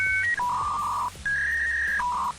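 A dial-up modem connecting over a phone line gives a string of clear electronic tones: steady beeps that step between pitches in a dialing-like pattern, loud and alone with no voices.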